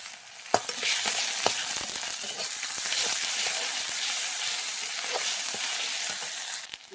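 Ginger garlic paste frying with onions already browned red in a pan, a loud, continuous close sizzle broken by sharp clicks of a spatula stirring throughout, with no talking.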